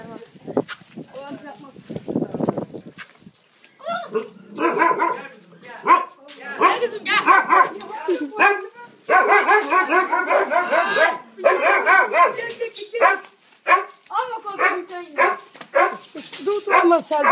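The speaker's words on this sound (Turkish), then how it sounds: "Ana burada da köpekler var." Dogs bark repeatedly nearby in a Turkish village, with yips and whimpers mixed in, while people talk in between the bursts.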